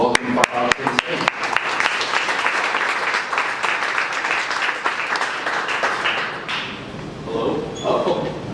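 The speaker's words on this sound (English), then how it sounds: "let's all stand up once again, give a round of applause" A conference audience at a 1 Million Cups Dallas morning event stands and claps for a presenter coming to the stage. Sharp close claps open the applause, which then fills in as a steady dense wash and tapers near the end.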